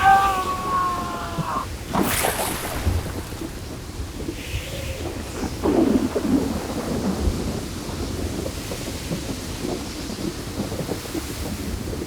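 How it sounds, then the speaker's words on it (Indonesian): Thunder cracks and rumbles over steady rain as a storm sound effect in a church Christmas play, with a sharp clap early on, another swell midway, and rain hissing underneath. "Hei, lihat, badainya berhenti."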